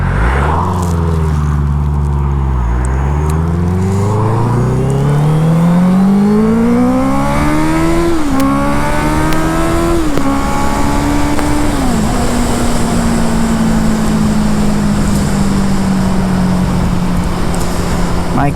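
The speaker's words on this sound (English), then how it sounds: "the sound of the inline fours, it's something special" An inline-four motorcycle engine revs on an open road. It climbs loudly through several gears with rising whines and brief dips at each shift, then settles into a steady high cruise drone with heavy wind noise.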